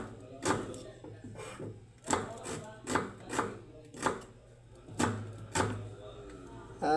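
Garlic and onion being chopped with a knife on a board while preparing a chicken-feet dish: about ten sharp, irregular chops, close and fairly loud, with a voice talking quietly in the background.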